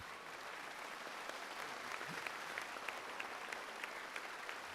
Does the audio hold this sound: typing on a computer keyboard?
no